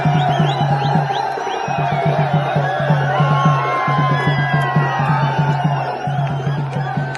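A dense crowd at a night-time student protest chants and shouts together, a loud, continuous roar with rhythmic call-and-response bursts and whistles running throughout.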